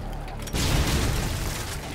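Grenade detonation in Modern Warfare 2, a sudden heavy boom after a half-second lull, with a rumbling low-end blast that lingers and decays over the next second and a half.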